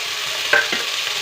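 Sprouted horse gram fries in a pan with a steady, dense hiss, and one or two brief spoon scrapes cut through it. The sound is close and continuous.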